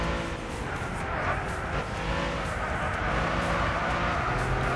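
Car accelerating in the racing video game Gran Turismo 6, a dual-clutch gearbox car with a sustained engine roar that climbs steadily and holds loud throughout, no talking.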